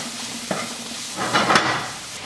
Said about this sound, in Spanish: Estamos friendo con una cebollita, tiene que dorarse un poquito o ponerse transparente.